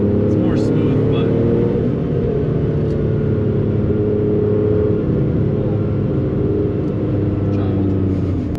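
A Porsche 993 Turbo drives with a steady, smooth low engine drone throughout, an even cabin-heard rumble with only slight rises under acceleration.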